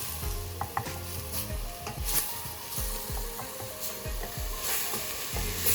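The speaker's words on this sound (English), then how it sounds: "garlic, and dried seasonings with olive oil. And I'm gonna saute that in about a minute or two." Onion, garlic and dried seasonings sautéing in olive oil, a faint steady sizzle with scattered clicks and scraping, accompanied by low rhythmic mechanical ticking, no talking.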